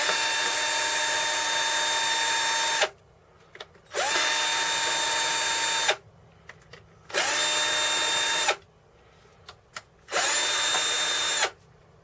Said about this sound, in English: I'll get my drill and we'll just pull this to pieces